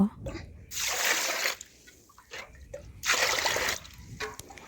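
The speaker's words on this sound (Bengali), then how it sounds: "এখন আমি চালের মধ্যে পরিমাণ জল দিয়ে চালটা আমি ধুয়ে নেব।" Water is poured into a pot of broken swarna rice grains to wash them, landing in two loud, splashy bursts separated by a quieter pause, close and with no talk over it.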